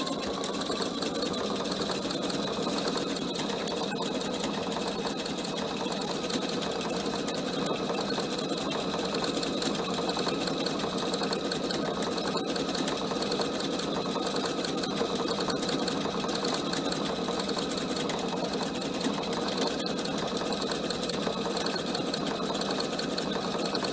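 A PFA sewing machine stitches a cushion cover in one long, continuous, evenly pitched mechanical hum with a fast needle chatter, close and loud, with no talking throughout.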